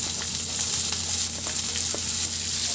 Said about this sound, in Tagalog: itabi ko muna yan sa kawali at igisa ko na rin yung bawang